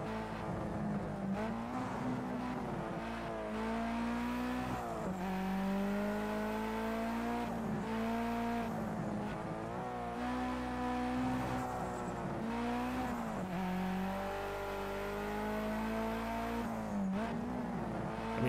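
A Toyota race car in Project Cars 2 drives hard, its engine revving high and dropping through repeated gear shifts and corner slowdowns, loud and continuous throughout with faint tire noise.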